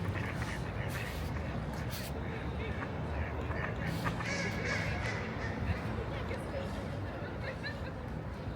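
Ducks quacking near water, a busy mix of quacks and honks under a steady outdoor background, with people talking in French throughout.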